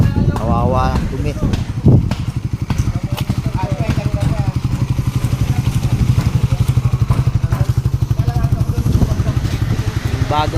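A motorcycle engine running on a roadside near Infanta, Quezon, a steady close, loud throbbing idle that continues throughout, with voices talking over it near the start.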